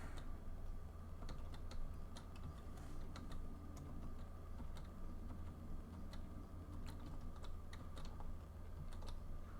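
Computer keyboard keys are tapped in scattered, fairly faint clicks to steer in the ATS truck driving game, over a steady low engine drone from the game, with no talking.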